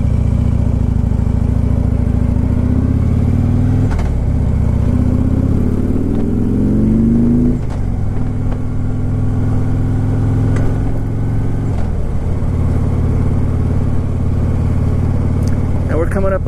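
A motorcycle hums steadily on a road near The Cove in La Quinta on a sunny day, its loud engine drone shifting pitch with a few gear changes while a rider talks over it.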